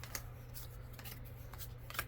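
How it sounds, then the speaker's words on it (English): Clue playing cards being shuffled by hand, a quick run of crisp riffling flutters and soft slaps repeating over a low steady hum. "I'm going to shuffle them again."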